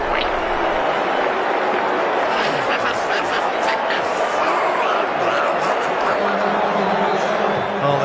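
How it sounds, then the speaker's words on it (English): Stadium crowd at a cricket match, roaring loudly and steadily after Mitchell Johnson takes a wicket for Australia against England, with a commentator talking over the continuous cheering. "Oh, the crowd have gone mad here, as you'd expect."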